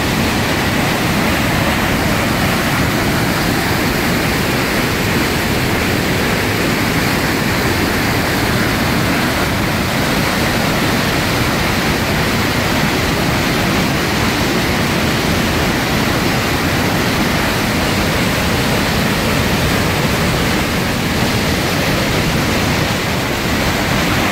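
Rhine Falls at Schaffhausen, Switzerland, roars as a massive waterfall, a loud, steady, unbroken rush of crashing water filling the whole soundscape with no pauses.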